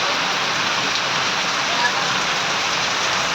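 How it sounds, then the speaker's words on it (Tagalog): Steady rain falls in a dense, even hiss that holds at the same loudness for the whole stretch, with no gaps, breaks or talk over it. "Itong ulan na to."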